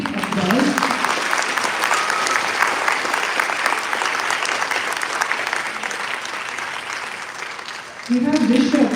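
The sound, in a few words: audience applause for young musicians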